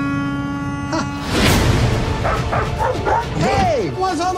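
A dog yips, whimpers and bow-wows in several sharp bursts close by over background music and rumble, with a voice heard among the barks toward the end.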